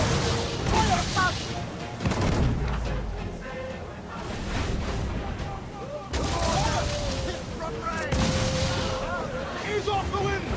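Pirate ship cannons fire a broadside in Assassin's Creed 4 Black Flag, several heavy booms rolling out amid shouted crew orders, loud and close, with a second volley of blasts later on.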